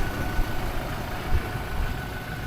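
A Toyota Hilux engine runs at idle, making a steady low mechanical rumble with small uneven pulses and no voices.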